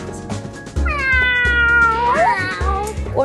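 A cat meows and caterwauls in a few drawn-out, rising and falling cries, loud and close, alone without talk.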